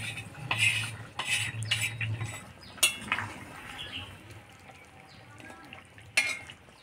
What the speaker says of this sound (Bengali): এবার ঢাকনা উঠে এই ভাজা জিরাটা দিয়ে দেব।